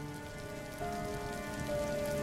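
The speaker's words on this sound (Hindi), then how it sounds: "अन्नपूर्णा रोती हुई बेटियों को लेकर तेज बारिश और अंधेरी रात में निकल पड़ती है।" Heavy rain falls on a dark night, a steady, dense hiss of drops on surfaces continuing without pause from start to end.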